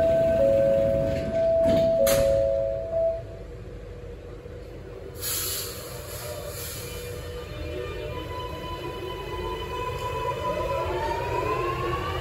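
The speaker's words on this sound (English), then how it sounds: "Train doors closing." Warning chimes sound twice at Epping station in Sydney, followed by a hiss and thud as train doors slide shut, then the carriage hums and starts rolling with a rising whine.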